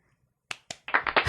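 A few sharp hand claps from a small studio audience, starting as two separate claps and then running into a short quick burst, close and clear after a moment of silence.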